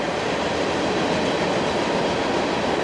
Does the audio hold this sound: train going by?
yes